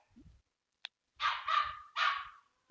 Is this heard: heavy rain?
no